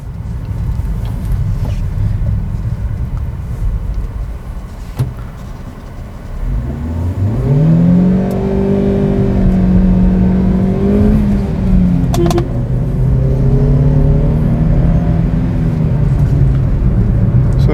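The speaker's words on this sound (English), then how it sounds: "Now let's do a small launch" A 2014 Hyundai Xcent does a gentle launch from a U-turn, its engine idling with road rumble, then rising loudly in pitch as it accelerates, shifting once and pulling on steadily from inside the cabin.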